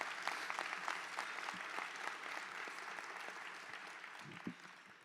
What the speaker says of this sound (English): a round of applause for the OAME community at large